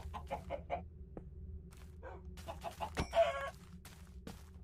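A Minecraft chicken in the FTB OceanBlock modpack gives a run of short, quiet clucks and a brief squawk, with no voices, over a low background.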